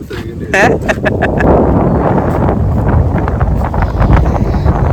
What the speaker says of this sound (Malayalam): ഇപ്പോഴേ നല്ല കാറ്റടിക്കും